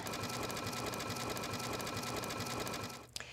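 A home sewing machine runs a decorative stitch along ribbon trim in a steady, rapid mechanical whir with a fast repeating needle rhythm, close and even, before it stops abruptly with a small click.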